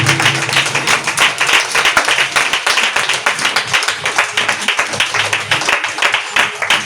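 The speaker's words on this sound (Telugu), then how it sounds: "బిగ్గరగా చప్పట్లు కొట్టి దేవుని నామాన్ని మహిమపరచండి." A church congregation claps loudly during worship in a steady, fast rhythm, with many hands beating together close by and faint voices underneath.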